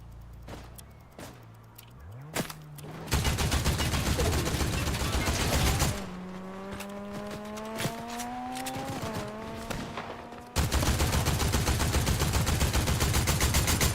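Rapid automatic gunfire from a video game rattles in long continuous bursts, loud and dense, interrupted by a vehicle engine revving and tires screeching in between.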